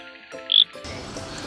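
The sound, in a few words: Pickersgill's reed frog calling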